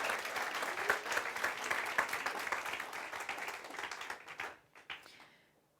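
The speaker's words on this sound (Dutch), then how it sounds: "Applaus voor jezelf." Audience at a community presentation day in Dokkum applauding, dense steady clapping from a crowd that holds for about four seconds, then thins to a few scattered claps and fades out.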